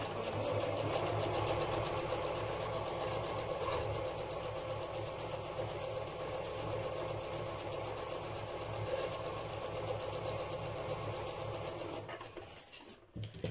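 A sewing machine stitches around a collaged window envelope, a steady, fast mechanical whir and rapid needle patter that runs continuously and stops near the end, heard close up with no talking.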